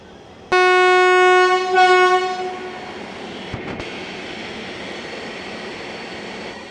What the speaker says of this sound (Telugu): ఇప్పుడే ప్లాట్ఫామ్ నెంబర్ 3లోకి అయితే చెర్లపల్లి నుంచి యశ్వంతపూర్ వెళ్ళే గరీబ్ రథ్ ఎక్స్ప్రెస్ అయితే వచ్చింది